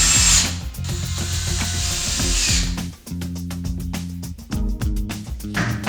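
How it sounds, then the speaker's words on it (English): Cordless power drill driving cam bolts into 5mm holes in a wooden shelving unit's side panels, close and loud, with repeated whirring bursts of the motor, brief pauses and ratcheting clicks between runs. "Screw in cam bolts in each 5mm hole."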